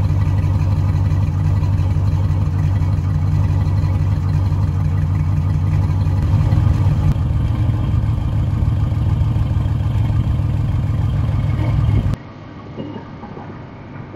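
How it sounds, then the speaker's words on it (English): A car engine idles roughly with a random misfire, a loud, close, uneven low drone that runs steadily before cutting off abruptly near the end. "definitely getting the rough idle because of the random misfire"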